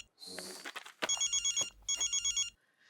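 A telephone rings over a speakerphone, heard after a brief burst of dialing noise as two electronic trilling ring bursts separated by a short pause, fairly loud and close with no talking.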